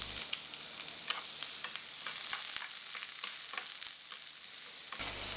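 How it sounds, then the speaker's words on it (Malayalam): Chopped ginger, green chillies, dried chillies and curry leaves fry in hot oil for an ginger curd curry, giving a steady close sizzle with light crackling and occasional stirring clicks, no voices. "അരിഞ്ഞു വെച്ച പച്ചമുളക്, കുറച്ച് കറിവേപ്പില, അരിഞ്ഞു വെച്ച ഇഞ്ചി കൂടി ഇട്ടിട്ട് നല്ലതുപോലെ ഒന്ന് മൂപ്പിച്ചെടുക്കണം"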